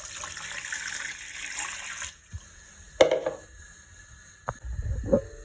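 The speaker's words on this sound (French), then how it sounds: "rajouter l'eau." Water poured from a tap into a cooking pot holding cassava leaves, a steady splashing flow for about two seconds, then a few separate clinks and small splashes, close by with no talking.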